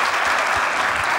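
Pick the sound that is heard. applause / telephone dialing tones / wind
applause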